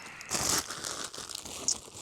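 Plastic bag of snacks holding Rice Krispie treats and protein bars crinkled and handled up close, steady rustling for about two seconds with a couple of sharper crackles, no talk.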